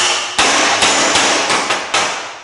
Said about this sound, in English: I take my hammer